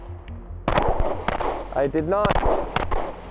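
Sharp, loud pistol shots from a Glock G19 clone fired at a range, several cracks in irregular succession with someone talking between them.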